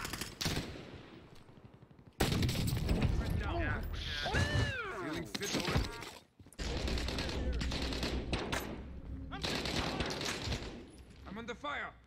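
Gunfire in the video game Call of Duty, dense bursts of rapid shots and explosions layered with in-game effects and chatter, loud and continuous with a short pause midway.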